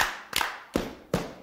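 Children clap and stomp along to a dance song on a 1972 Soviet school radio show. A few sharp, percussive hits land about every 0.4 seconds, close and crisp, with a steady background hiss.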